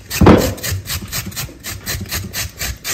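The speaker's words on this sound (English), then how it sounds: "So you go ahead and grate your coconut like this." Hand grating of fresh coconut for a cassava coconut cake, a rhythmic rasping scrape repeated about twice per second, close and fairly loud, with one heavier knock near the start.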